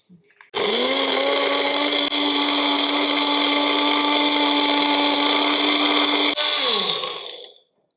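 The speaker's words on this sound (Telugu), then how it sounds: "సో ఇప్పుడు కొంచెం ఇవి మనం గ్రైండ్ చేసుకుంటే పేస్ట్ లాగా ఫామ్ అవుతుంది కదా" A kitchen mixer grinder whirs steadily for about seven seconds while grinding homemade face cream ingredients into a paste. The motor starts abruptly, holds a constant loud hum, then winds down as it is switched off.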